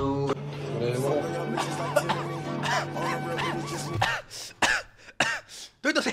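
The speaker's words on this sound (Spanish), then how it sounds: "Estoy tosiendo por el picante." Coughing and throat clearing from someone who ate the world's spiciest potato chip: rough throat sounds over a steady background drone, then several sharp, close coughs in separate bursts near the end.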